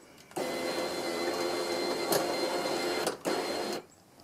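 A power window regulator motor in a 2000-2006 Chevy Silverado driver's door whirs steadily while raising the window, a close, even electric hum that briefly cuts out and restarts before stopping.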